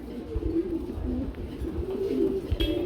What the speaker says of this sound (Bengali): আমরা এখানে দেখতে পাচ্ছি আরেক জোড়া কবুতর চলে আসছে